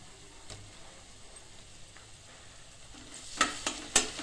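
Ground green chilli paste frying with browned onions in a pan for sandwiches, a faint, low sizzle with a few sharp spoon taps and stirring scrapes near the end.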